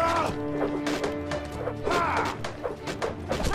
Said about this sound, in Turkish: Kapıyı direkt kırıyorsun.